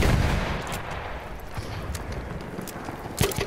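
Gunfire sounds in the video game Battlefield 1: a dense, continuous clatter of shots and explosions, loud and busy throughout, with one sharper burst near the end.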